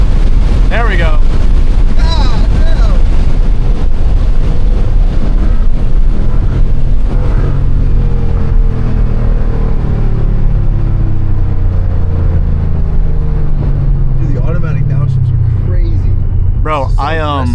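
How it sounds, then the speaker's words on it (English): A straight-piped 10-speed Ford Mustang GT roars under full throttle with a loud, rising exhaust drone, a shift and heavy wind buffeting, while a person talks over it intermittently. "I only floored it once it just shifts up into third gear"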